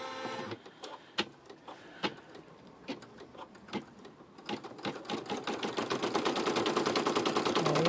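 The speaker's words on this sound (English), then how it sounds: "It's sewing the same thing as it did for the other side." An embroidery machine stitching a bear pattern runs alone with sparse, sharp mechanical clicks that quicken into a dense, steady rapid-fire stitching rhythm, growing louder toward the end.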